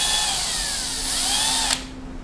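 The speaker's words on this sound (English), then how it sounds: "the smaller drill is more delicate" A small power drill spinning to twist wire, a steady high whine that holds for under two seconds and then cuts off, close and loud.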